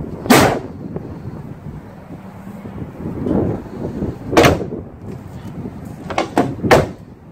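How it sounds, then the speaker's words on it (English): An insulated Mercedes Sprinter camper van door is shut several times, giving sharp, close bangs and thuds spread across the stretch, with quieter rattles and handling noise between them. "let's try closing the door"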